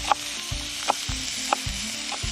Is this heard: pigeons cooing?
no